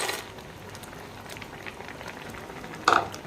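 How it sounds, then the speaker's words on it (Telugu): Semiya payasam bubbles steadily in a pot as cashews and almonds are added, a soft continuous simmer with a brief louder plop and splash near the end, no voices. "ఇప్పుడు మనం తీసుకున్న జీడిపప్పులు బాదం పప్పులు వేసేద్దాం."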